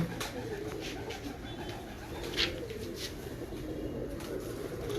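Royal Teddy pigeons coo in a low, steady murmur close by, with a few brighter chirps over a continuous loft background.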